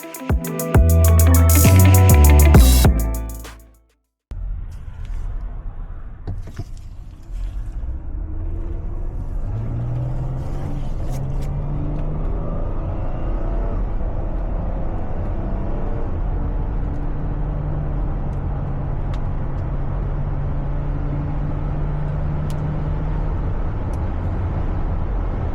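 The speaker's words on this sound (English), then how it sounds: "I'm gonna take this car now on a spin" A 2014 Chrysler Town & Country minivan drives along at a steady pace, its engine and road noise a low continuous rumble from inside the cabin after a brief loud burst at the start.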